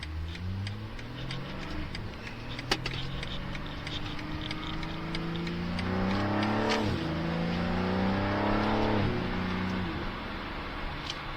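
A BMW G82 M4 Competition with an aftermarket exhaust revs and accelerates through rising gear changes, loud and close, with a brief sharp click partway through.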